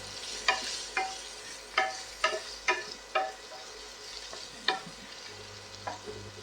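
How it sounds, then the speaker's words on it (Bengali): Spices and turmeric fry in a pan while a spoon stirs in sharp, repeated scraping strokes, about eight distinct clacks over a low steady sizzle. "আবার নাড়াচাড়া করব।"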